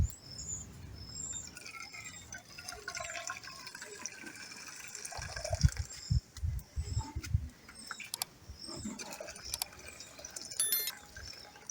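Soup being poured out to separate it in an African village kitchen outdoors, with liquid splashing and trickling in bursts, birds chirping around, and no talk.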